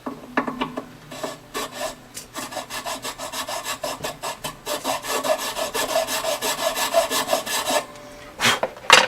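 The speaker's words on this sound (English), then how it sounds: "I'm trying to hold the file at the same angle the peg head here is." A file shapes a tusk nut on a very old Gibson jumbo acoustic guitar, giving close rhythmic rasping strokes, some quick and some in longer runs, with brief pauses between them.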